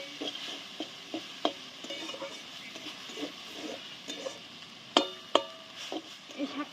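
Water spinach stir-fried with garlic, dried chillies and green chillies, steady soft sizzling under repeated light spatula scrapes and taps against the pan, fairly quiet and close.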